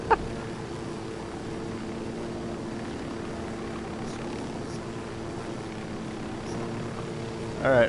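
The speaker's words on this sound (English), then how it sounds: "I'm placing the chopper down" A helicopter is set down in Ghost Recon Wildlands, its rotor and engine giving a steady droning hum with a faint tonal whine, moderately loud throughout, with a couple of short bumps at the start and end.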